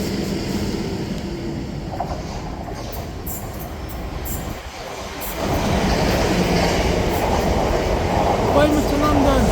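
Train passing through St Denys station, a loud continuous rumble and rattle of wheels on rails with a brief dip midway before the noise swells again and carries on to the end.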